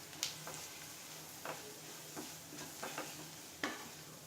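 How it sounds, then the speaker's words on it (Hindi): Ground spices such as red chilli powder and amchur being mixed into onions in a pan, a quiet steady sizzle broken by a few soft scraping stirs, with no voices. "और इन सबको मिक्स कर लेंगे।"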